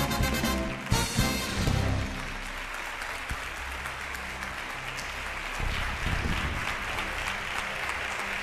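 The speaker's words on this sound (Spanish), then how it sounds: "Un aplauso para Coral y Sandra Ruiz" Studio audience of a Spanish TV singing contest applauds two contestants, a steady, dense wash of clapping with a brief burst near the start, sustained at even loudness throughout.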